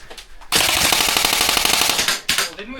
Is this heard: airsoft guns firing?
yes